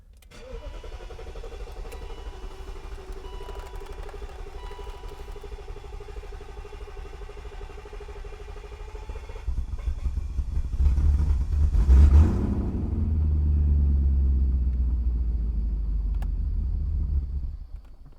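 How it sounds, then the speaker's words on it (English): A BMW engine with its oxygen sensors removed cranks and catches, then idles with a heavy, loud rumble that deepens and holds steady before cutting off. "The car sounds so loud because I have the oxygen sensors removed still"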